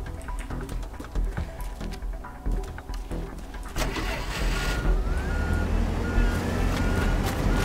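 A vehicle's reversing beeps in the video game Teardown, a repeated series of short beeps over engine rumble and clatter that grow louder and denser toward the end.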